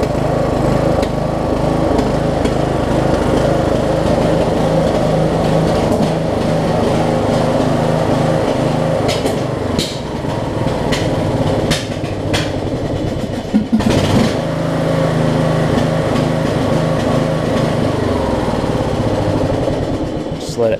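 A Craftsman LT1000 riding mower's engine runs loud and close, a steady rough idle with brief uneven stumbles and occasional knocks, continuing without a break for about twenty seconds.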